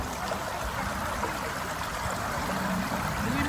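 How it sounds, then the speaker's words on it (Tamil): Water flows through a village stream in England, a steady, unbroken rushing and trickling close by with no voices over it. "ஓ தண்ணி எப்படி போறது பாருங்க"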